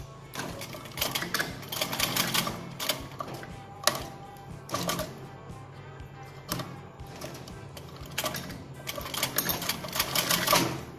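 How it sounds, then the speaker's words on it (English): A sewing machine stitches a petticoat waistband in short bursts of rapid mechanical clatter, close and moderately loud, with brief pauses between runs. "now we will stitch here firmly first"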